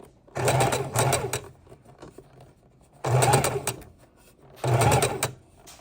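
A sewing machine runs in three short bursts, each about a second or two long, stitching fabric scraps into ruffles for a junk journal. The whirring is close and separated by quiet pauses while the fabric is adjusted.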